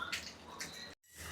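Water poured into a hot pan of sizzling pomfret heads for a Malvani-style fish curry, a brief splashing rush that cuts off abruptly and then resumes.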